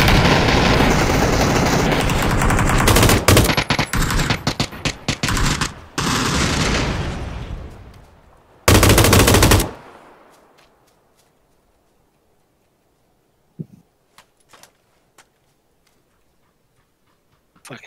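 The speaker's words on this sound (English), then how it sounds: "You're shooting me" Rapid machine gun fire rattles in PUBG, a continuous loud automatic burst for several seconds, then a second short volley, before dropping to near silence broken by a few faint distant shots.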